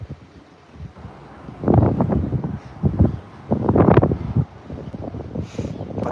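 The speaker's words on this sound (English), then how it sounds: "I hope you can even understand me because it's so windy now" Strong wind gusts buffet the microphone beside outdoor seal pools, loud irregular rumbling bursts rising and falling over several seconds with no clear speech.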